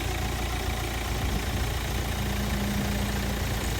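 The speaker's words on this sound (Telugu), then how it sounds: "ఇంజన్ సౌండ్ మాత్రం ఇట్లా ఉంది" A 2018 Hyundai Creta SX with a 1.6 diesel engine and automatic gearbox idles with a steady, even, low drone that holds at the same level throughout.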